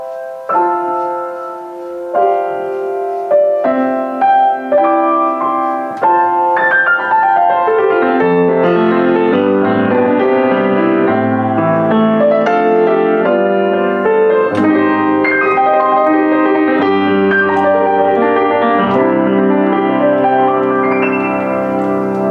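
Used Essex EUP123 upright piano played with its lid open, a full, bright run of chords and melody ringing continuously at steady loudness, no voices.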